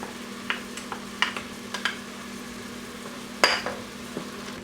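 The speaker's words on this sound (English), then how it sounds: "Continue to stir and saute for about 2 minutes." Mushrooms and diced onions sautéing in a pot for cranberry chicken and wild rice, a faint low sizzle broken by scattered light clinks and scrapes of a stirring utensil, with no talk.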